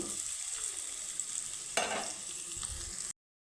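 Jackfruit seeds fry in a pan with a soft, steady sizzle, and a brief scraping stir rises near the middle before the hiss continues evenly until it cuts off.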